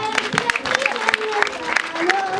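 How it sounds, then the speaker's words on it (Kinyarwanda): Audience clapping at a Rwandan primary school event, dense, steady applause filling the whole stretch with scattered louder claps, with voices mixed in. "Mwabahaye amashyi menshi cyane."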